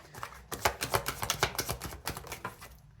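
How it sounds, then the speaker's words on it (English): Tarot cards being shuffled by hand: a quick run of soft, dry riffling slaps and flutters in an irregular rhythm, close and fairly quiet, with no talk. "Hopefully I shuffle the cards enough"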